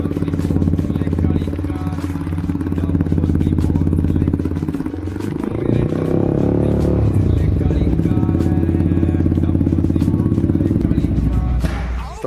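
Yamaha R15 V4 motorcycle fitted with a full-system Akrapovic exhaust, dB killer removed, idling and revving; a loud, steady low engine drone with rising and falling throttle blips, close up, no talk.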